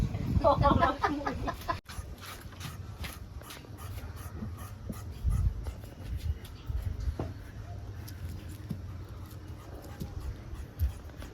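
A hen clucks nearby in short bursts, with a dog whimpering and some faint talk in the background.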